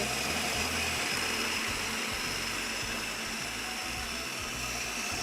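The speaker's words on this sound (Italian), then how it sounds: "Ci diamo un coppo di frullatore." A kitchen blender runs steadily at close range for the whole stretch, a dense continuous whir with a low pulsing churn underneath, during home cooking of Italian family recipes.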